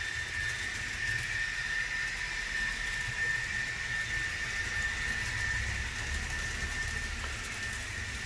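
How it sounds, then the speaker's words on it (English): Faint, steady engine hum with a constant whine and hiss from five model train engines running at once with sound, continuous with no pauses or voices. "that has sound on. So that's 5 engines running at once."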